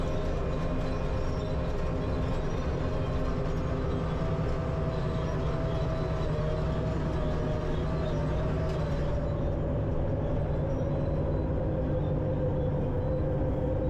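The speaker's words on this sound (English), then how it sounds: "it's everything that D8 can do to pull this scraper." Caterpillar D8 bulldozer with 310 horsepower straining to pull a scraper through clay at a reservoir build site, a loud continuous diesel roar and rumble holding steady throughout.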